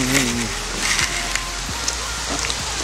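Steady rain falls in Michigan in winter, a continuous close hiss of drops with scattered pattering ticks and a faint voice at the start.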